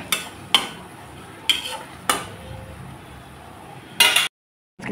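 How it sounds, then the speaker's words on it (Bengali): Drumstick curry (sajna chorchori) stirred in a pan with raw mustard oil, giving five sharp spoon-on-pan scrapes and clinks spread over a few seconds, the last a brief rattling burst before a cut to silence. "এখন আমি নেড়ে চেড়ে নামিয়ে দেবো"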